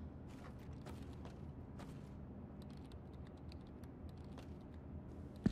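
Keys clatter on a computer keyboard in Homefront: The Revolution, quiet irregular bursts of tapping over a low room hum, ending in a single sharper knock.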